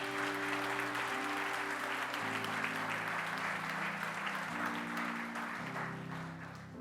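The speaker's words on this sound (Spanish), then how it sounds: "Denle un aplauso a Jesús esta tarde." Church congregation giving a sustained round of applause, even and continuous for several seconds over soft held keyboard chords, moderately distant and filling the room.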